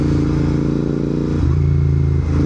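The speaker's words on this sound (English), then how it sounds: "They're super throaty sounding engines." A Royal Enfield Interceptor 650 motorcycle engine rumbles loudly and close by, a deep throaty idle that swells briefly as the throttle is blipped.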